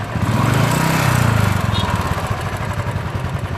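An old, heavy, worn-out motorcycle idles nearby, its engine thumping in a rough, rapid pulse that stays loud and steady throughout.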